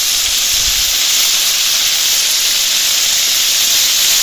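Chicken curry with chili powder, turmeric, oil and salt sizzling in a pan outdoors in a mango orchard, a loud, steady hiss that holds unbroken throughout with no talking.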